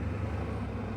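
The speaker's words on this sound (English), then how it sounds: "Oh, that's FedEx. Yeah, that was his truck making all that noise." An old FedEx delivery truck passing close on a quiet residential street, a steady, loud low engine rumble with road noise that holds evenly throughout.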